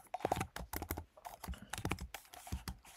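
Rapid, close clicking of a computer keyboard as C# code is typed, with irregular bursts of keystrokes and brief pauses, steady and clear with no voice.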